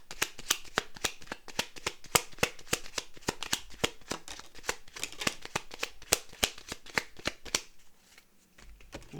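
A second deck of tarot cards is shuffled in a fast, continuous run of crisp, close-up card slaps and riffles for several seconds, then it briefly quiets near the end.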